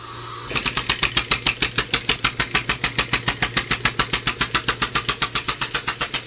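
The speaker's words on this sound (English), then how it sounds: "That's just at a low idle." An air-powered engine runs at low idle, firing a steady, evenly spaced train of sharp chuffs and hissing pulses, loud and close, after a brief hiss before it starts.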